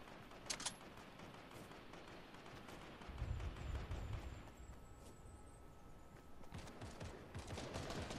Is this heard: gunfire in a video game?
yes